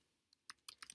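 A computer keyboard being typed on to enter a web address into a browser: a few quick, crisp key clicks, sparse at first, then a denser burst of keystrokes, close and alone with no talking.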